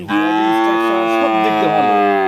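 A single loud, sustained cow moo close by, deep and drawn out for about two seconds.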